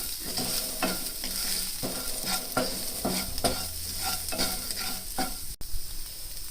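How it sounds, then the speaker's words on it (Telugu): Green chilies fry in a pan with salt and turmeric while being stirred. Repeated scraping strokes sound over a continuous sizzle, close and fairly loud, with no voices. "ఇప్పుడు ఈ పచ్చిమిర్చి వేగేటప్పుడు తగినంత సాల్ట్ వేసి అలాగే కొంచెం పసుపు కూడా వేద్దాం."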